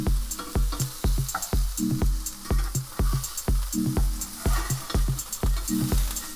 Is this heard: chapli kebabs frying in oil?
yes